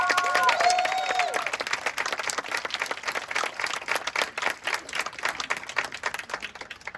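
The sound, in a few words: audience applause for staff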